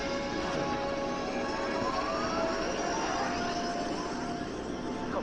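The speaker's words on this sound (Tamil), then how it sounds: "அந்த பிளைனும் பறக்க ஆரம்பிச்சது." An airplane takes off and flies in an animated episode, a steady whining jet roar with rising tones that stays at an even, moderate level throughout.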